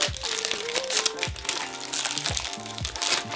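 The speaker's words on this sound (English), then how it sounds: "I love how the cellophane comes off so easily." Cellophane wrapping is peeled off a David Beckham Refined Woods fragrance box, giving close, bright crinkling and crackling in short bursts over a faint background of music.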